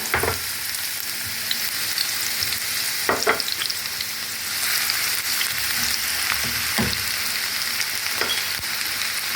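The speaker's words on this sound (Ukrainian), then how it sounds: "налила олію, кидаю цибульку" Steady oil sizzling and crackling as onions fry for borscht, with occasional scraping stirs and clinks, close and continuous, no talking.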